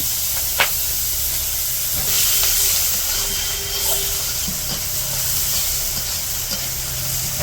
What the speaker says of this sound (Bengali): তরকারি রান্না করবো পেঁয়াজ কাঁচামরিচ দিয়ে দিল